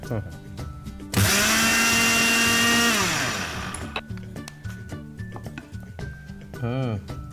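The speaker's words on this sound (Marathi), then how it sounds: "आपण तीळ भाजून ठेवलेत ते जरा मिक्सरमधून काढूया तीळ आणि ही खसखस" A mixer grinder grinds roasted sesame seeds and poppy seeds in a loud whirring burst of about two seconds, then winds down, with a voice talking before and after.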